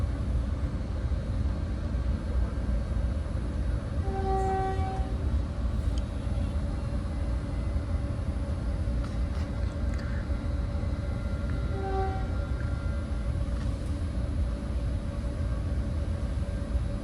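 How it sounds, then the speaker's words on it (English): Caltrain Southbound Express Train 522 heard from inside, a steady broadband rumble of the moving train throughout, with two brief tonal chimes or signals partway through. "This is Southbound Express Train 522, making select stops to San Jose Diridon."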